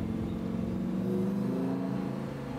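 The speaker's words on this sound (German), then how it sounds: "Selbst mit 20 km/h hört der Wagen sich vom Sound her schneller an." A Lamborghini engine rumbles steadily from inside the car while cruising slowly at about 20 km/h on a country road, a continuous low drone with no talking.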